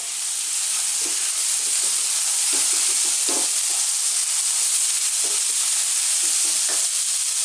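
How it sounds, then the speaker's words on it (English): Red kidney beans hit a hot pan of vegan chili with tofu and sizzle loudly under a constant hissing fry. A utensil scrapes and clatters now and then as it stirs them through. "let's now go in with our kidney beans, or our red beans"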